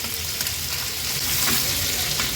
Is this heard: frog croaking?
no